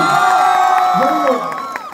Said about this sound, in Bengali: জোর আমার সাইডের হাততালি।